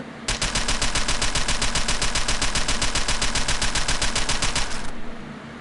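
A pistol fires in Gun Club VR, a rapid, evenly spaced stream of loud shots for about four and a half seconds, running together like automatic fire and then stopping abruptly.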